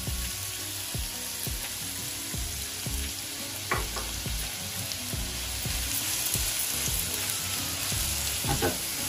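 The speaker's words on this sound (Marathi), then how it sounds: "तेल गरम झालेलं आहे। आता मी याच्यामध्ये कांदा टाकते" Chopped onion frying and sizzling in hot oil in a pan for an egg tawa masala, a steady loud crackling hiss with scattered sharper pops and occasional stirring, close and continuous with no talking.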